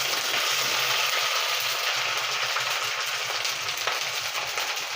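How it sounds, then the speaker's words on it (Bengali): Ginger paste fries in oil in a pan over medium heat for an egg and coconut curry, giving an unbroken, loud, close hiss that holds steady throughout. "এতটুকু ভাজা হলে আমি এটার মধ্যে 1 চামচ আদা বাটা দিয়ে দিলাম"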